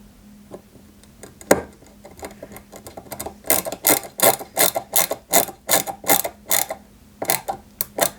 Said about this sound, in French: On vient y mettre déjà 2 vis.